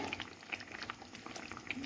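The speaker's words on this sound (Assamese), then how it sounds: "এয়া চব ইতিমধ্যে একদম জোল উতলিছে" Pabo fish mustard curry bubbling at a low boil in a pot, soft continuous gurgling with small pops, quiet and close, no talking.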